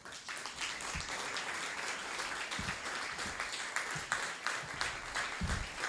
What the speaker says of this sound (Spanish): ya empezás recibiendo nuestro aplauso